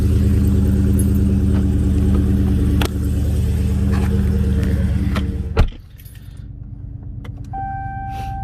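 A 2020 Dodge Charger 392 rumbles steadily with a deep engine drone heard from inside the car. Partway through there is a sharp clunk, after which the engine settles quieter and a faint tonal chime sounds near the end.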